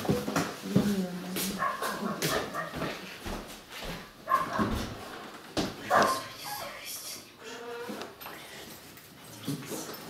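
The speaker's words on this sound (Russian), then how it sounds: "Кто-то там лает." A dog barks several times somewhere in a home, sharp yaps and whimpers scattered among people talking close by.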